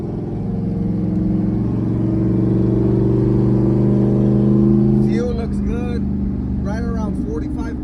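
A Gen 2 Coyote Mustang engine runs close and loud in a steady, droning rev, then a voice talks briefly over the running engine near the end.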